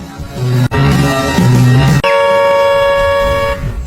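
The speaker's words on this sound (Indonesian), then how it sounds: "Saat sebuah klakson terdengar, Mary panik dan berdiri, begitu pula Relic." Loud car horn blasts, a couple of sharp honks followed by a longer sustained toot, close by and dominating everything else.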